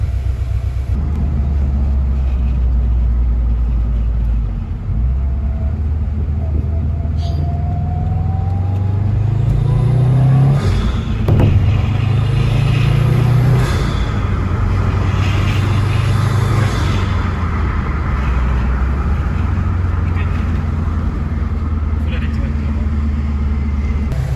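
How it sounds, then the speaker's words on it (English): Engine noise from a 2015+ Subaru STI (VAB) with an HKS Racing Suction intake and Cobb Accessport: a steady low rumble with rising and falling revs, turbo spool whines and intake swishes heard from inside the moving car. "the intake sounds and the turbo spooling and the swishing from the intake sounded pretty nice"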